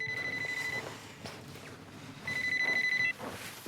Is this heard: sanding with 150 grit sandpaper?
no